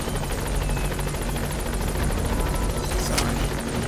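Helicopter rotor chopping in the Metal Gear Solid V: The Phantom Pain video game, a loud, steady rhythmic beat with a brief sharper burst near the end, heard alone without speech.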